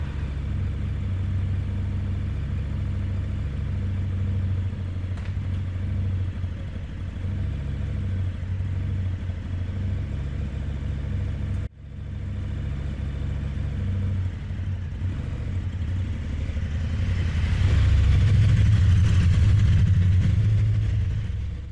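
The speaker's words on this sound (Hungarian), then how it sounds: "Ez egy KTM." A 2021 KTM 1290 Super Duke GT motorcycle engine idles with a deep, steady rumble, cuts out for a moment partway through, then grows louder and fuller toward the end, with no voices.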